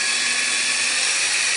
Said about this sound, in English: So we're gonna put our mixer in